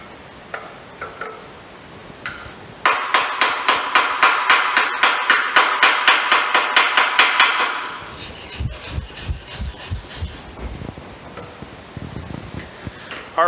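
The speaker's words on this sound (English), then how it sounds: "We'll take a look at it and then we'll break these welds." Steady, evenly spaced hammer blows strike arc welds on a metal workpiece to break them. The metallic impacts come close and sharp for several seconds, then give way to duller, irregular knocks.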